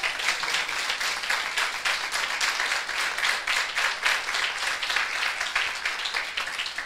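A church congregation claps in praise during a sermon, sustained dense applause with a loose rhythmic pulse, loud and continuous for several seconds with no voices heard.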